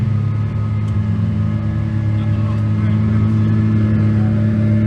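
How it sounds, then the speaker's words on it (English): An Aston Martin Vulcan idling on the grid at Silverstone ahead of a race, a loud, steady, deep engine rumble that continues unbroken throughout. "Just listen to the sound of that Vulcan."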